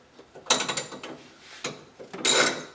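A hand ratchet snugs up bolts on a car's roll cage dash bars in a driveway, heard as two short bursts of close, fast clicking separated by a pause with a lighter click between.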